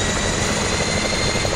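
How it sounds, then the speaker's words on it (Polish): Helicopter flying overhead in a desert off-road rally video game, a steady loud rotor-and-engine drone with a faint pulsing beat, continuous with no one talking. "Aha, to śmigłowiec, okej."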